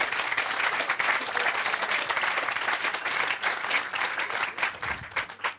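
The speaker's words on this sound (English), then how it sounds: "I think we're allowed a round of applause today for all the effort." Festival audience at the Sounds Beautiful gathering breaks into sustained applause, a thick, continuous roar of many clapping hands that stays loud and even before thinning slightly near the end.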